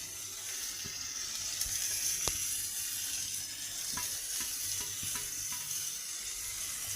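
Masala of tomato, ginger and green chili frying in a pan for paneer chana masala, a steady close sizzle throughout with a few faint clinks and stirring scrapes.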